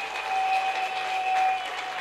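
A church congregation applauds together, a steady, dense burst of clapping lasting about two seconds, fairly loud and close, with no talk over it.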